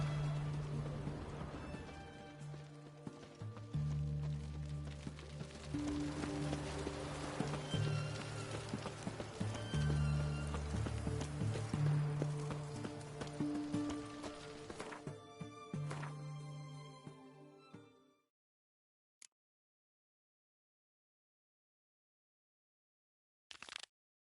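Roach the horse gallops in The Witcher 3, hooves thudding in a fast, steady rhythm beneath a thick layer of game music and ambience, then everything stops abruptly into near silence broken by two faint blips.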